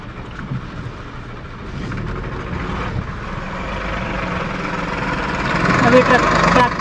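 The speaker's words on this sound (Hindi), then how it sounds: "अभी ट्रैक्टर भी निकल जाएगा," A Punjab-registered tractor engine chugging past on a steep, rocky mountain road in Ladakh, a low rumbling drone growing louder as it nears, with people talking over it.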